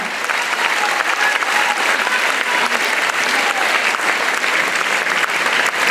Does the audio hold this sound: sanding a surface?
no